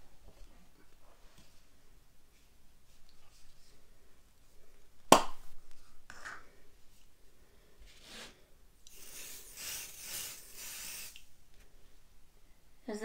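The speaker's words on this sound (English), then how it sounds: "I'm going to take some of my Pixiss spray here." A spray can hisses in one steady burst lasting a few seconds, sprayed onto a Valentine's Day wreath, close and fairly loud after a quiet stretch with a sharp knock.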